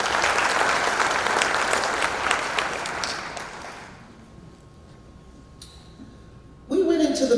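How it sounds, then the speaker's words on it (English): Parents at a school arts parent meeting clap for Ms. Thomas in a brisk burst of applause that fades out after about four seconds, leaving a quiet room with a faint hum before a sudden voice breaks in. "Let's give her a round of applause."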